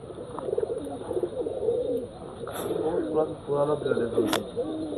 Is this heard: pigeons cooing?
yes